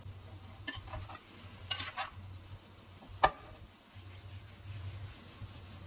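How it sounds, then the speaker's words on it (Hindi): Potatoes with cumin seeds and spice mix frying in a pan on low heat, a soft steady sizzle broken by several scraping stirs of a spoon, close and fairly quiet. "आलू और मसाला जो है वो पक रहा है, अच्छे से मिक्स हो गया है"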